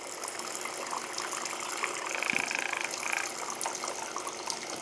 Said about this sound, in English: It's stirring the coffee here.